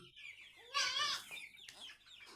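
A chicken clucks nearby in a short burst of squawky calls, fairly faint overall against a quiet background.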